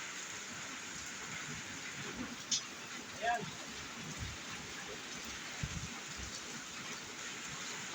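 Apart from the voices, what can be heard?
heavy rain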